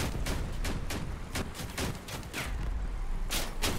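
Rapid machine gun fire from three blue machine guns on a vehicle in the combat game Crossout, loud repeated bursts of shots in quick rhythmic succession, with no talk.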